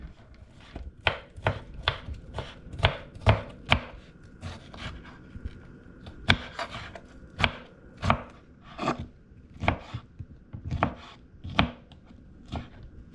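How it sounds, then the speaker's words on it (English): A knife chops vegetables on a cutting board in rapid, uneven bursts of close, sharp strikes, pausing briefly between runs, with no voices. "you're gonna just chop it like this"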